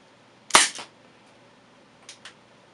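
A Dan Wesson 2.5-inch CO2 revolver fires a single sharp, loud shot over a chronograph, followed by a brief hiss, then two faint clicks a moment later, with no talking.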